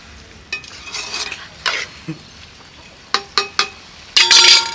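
Chicken frying in oil for a village-style dish, stirred with a utensil: a steady background sizzle broken by scraping strokes and several sharp metallic clinks against the pan, ending in a loud burst of sizzling, with no talking.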